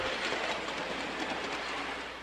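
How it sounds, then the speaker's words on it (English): A miniature streetcar runs on a model train display at the Ohio County Historical Museum, giving a steady, close, rushing rattle and clatter of wheels on track that carries on without pause or voices. "There's a streetcar."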